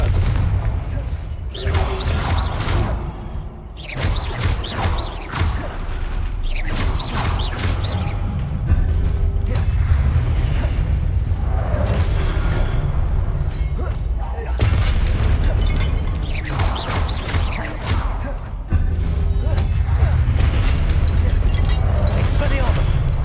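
Loud, dense game explosions from the Confringo blasting spell in Hogwarts Legacy, booming repeatedly over a constant roar of battle sound, with spoken spell names mixed in.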